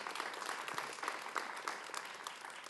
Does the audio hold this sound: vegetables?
no